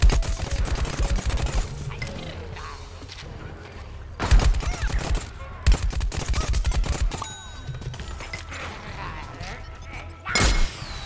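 Gunfire in the Plants vs. Zombies Garden Warfare video game: dense bursts of rapid shots and heavier blasts keep going throughout, with loud volleys standing out, while players talk over the shooting.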